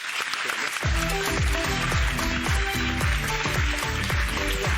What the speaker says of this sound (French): Applaudissements pour Franck.